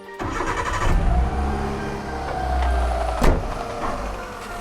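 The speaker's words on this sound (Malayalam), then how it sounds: "അടുത്ത പരിപാടി നമുക്ക് വണ്ടി ഒന്ന് സ്റ്റാർട്ടിങ് ചെയ്ത് നോക്കാം." A serviced vehicle, just back from rear brake, spark plug and coolant work, cranks and fires up, then settles into a steady mid-pitched idle with a brief rev bump, close and loud with no talk.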